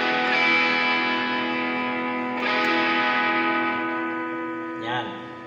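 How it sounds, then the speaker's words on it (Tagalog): An electric guitar played through an overdrive pedal, with reverb and delay also on and a Boss NS-2 noise suppressor in the chain, rings out in sustained, distorted chords that decay, with a fresh strum near the end. "Bubuksan ko yung overdrive."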